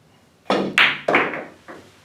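A billiards shot on a pool table: a cue strikes the ball with a crisp knock, followed by a few more hard clacks and thuds as balls collide, then a softer final tap.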